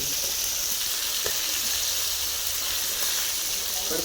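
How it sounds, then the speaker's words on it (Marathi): Pomfret fish fry in a hot pan on a home stove, with a continuous, even sizzling hiss and faint crackle throughout. "कडकडीत आवाज येते आहे"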